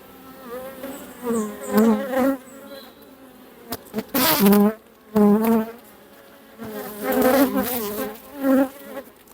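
Agitated honeybees swarm at an opened hive being prepared for winter, their loud, wavering buzz rising and falling in close bursts near the listener.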